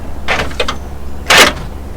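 Power door locks on a Mitsubishi Montero Gen 2.5 actuating, a quick cluster of mechanical clunks followed by a louder, sharper lock thud, close by over a low engine hum.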